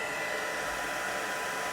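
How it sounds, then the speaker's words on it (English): A craft heat tool on its low setting blows steadily, a constant airy whirring hum like a hair dryer, close and unbroken for the whole short stretch with no voices. "And this is the heat tool on low."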